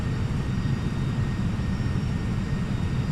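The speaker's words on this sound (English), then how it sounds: "I love hand flying this airplane, man." Steady, droning roar of MD-11 airliner engines in flight during hand-flown approach in a flight simulator, constant and even with no breaks.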